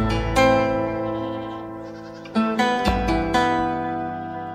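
Sheep bleating loudly and close, several long wavering calls overlapping one after another, with fresh bleats breaking in near the middle and end, on a dairy sheep farm in the Punilla region of Córdoba.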